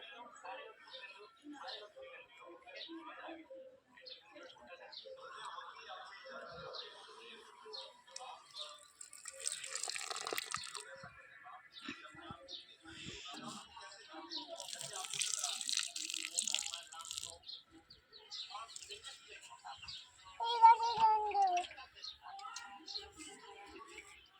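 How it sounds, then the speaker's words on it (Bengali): Onion plants in a home garden being watered, with two bursts of splashing, pouring water set among quiet stretches while people talk softly throughout. "হ্যাঁ, পেঁয়াজ গাছে দাও"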